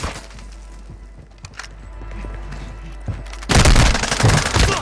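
Video game gunfire: scattered shots and clatter give way to a loud, dense burst of rapid automatic fire that dominates the final second and a half.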